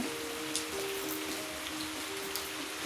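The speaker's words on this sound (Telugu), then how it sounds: "వర్షం అయితే బాగా పడుతుంది" Steady rain falls in a village, a dense even hiss of drops striking surfaces close by, with no voices over it.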